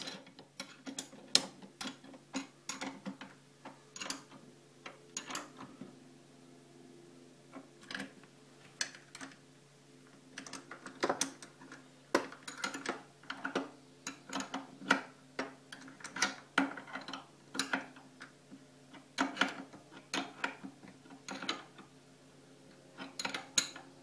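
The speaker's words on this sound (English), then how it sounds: "I'll retighten these bolts down here" Bolts being retightened on the base of an indoor cottage pump in a sink, irregular close metallic ticks and clicks from the tool with quiet pauses between bursts.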